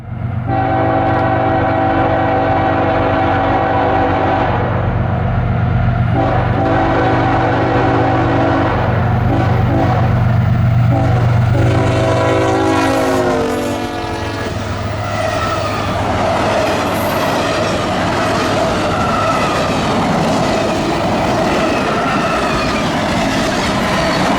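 The CSX Holiday Express freight train passes close by, its horn blaring in long sustained blasts over a loud rumbling engine, then giving way to continuous clattering wheels and rushing noise of cars rolling past.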